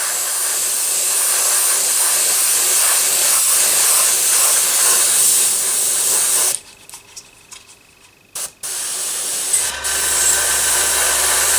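Airbrush spraying primer onto a resin model, a steady close hiss of air and paint lasting several seconds, briefly cutting out and sputtering in short bursts before resuming.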